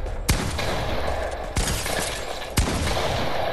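Gunfire in Fortnite: three sharp, loud shots spaced about a second apart over a dense, steady wash of game noise, with no talking.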